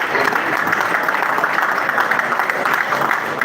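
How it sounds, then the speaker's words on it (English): Loud, dense applause from a crowd at a political aspirants' summit for the minister, continuous and even with no breaks. "Please, a round of applause for the minister."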